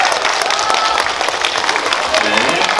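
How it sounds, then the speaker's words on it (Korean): Applause from the audience at a live talk event for the film Negotiation, a steady, fairly loud clatter of many hands with voices talking over it. "네, 여러분 박수 한번 부탁드리겠습니다."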